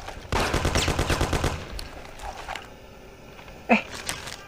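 Rapid shotgun fire in the Mafia video game rings out in a quick run of loud, evenly spaced blasts, followed by a quieter gap with scattered clicks and one more sharp shot near the end.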